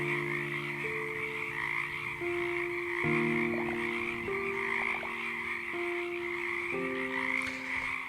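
Frogs croak at night in the video game FIXFOX, a loud chorus of layered, stepping tonal croaks repeating steadily over a constant hiss of insect-like ambience, with no voices.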